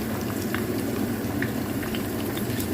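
Steady hot-oil sizzle with scattered small pops and crackles as sausage fries in a pan, continuous and close throughout, no voices.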